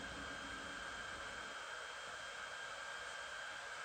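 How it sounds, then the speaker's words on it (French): A hair dryer left switched on in a house running fully off-grid on solar panels and batteries, giving a steady, loud, continuous airy whoosh with a constant motor whine and no pauses. "il reste le sèche-cheveux qui est encore allumé"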